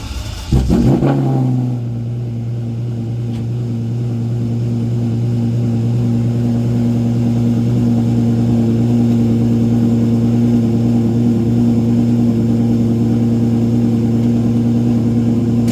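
A Ferrari engine at a car show fires up with a brief burst, then holds a loud, steady, throaty drone with strong low tones for the rest of the stretch, with no talking.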